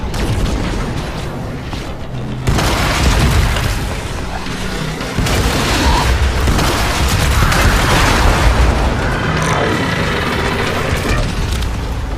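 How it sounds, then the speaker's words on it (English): Heavy bombardment explosions in the game Warframe during a fight against the Profit-Taker on Fortuna, loud booming blasts that roll on continuously with gunfire mixed in. "Bombardment inbound."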